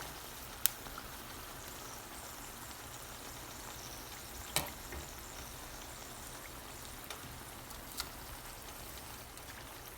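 Palak pakoda (spinach fritters) frying in oil, a steady, soft crackling sizzle running throughout at moderate distance, with a few sharp pops standing out.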